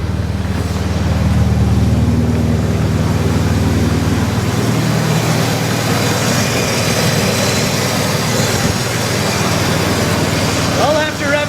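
A Nissan 240SX with an idle hesitation problem runs with a steady, droning low hum that eases off partway through, close by, with someone talking over it.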